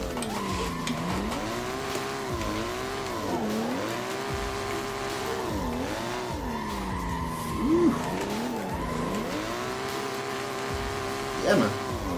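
A BMW M2 tuned to 800 BHP drifts in Assetto Corsa, its engine note rising and falling in long sustained sweeps while tires squeal in short bursts near the end, with voices talking throughout.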